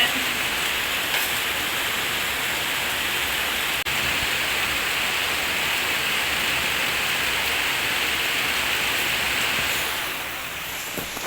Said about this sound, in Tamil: வெளியில பாருங்க மழை பெஞ்சிட்டு இருக்கு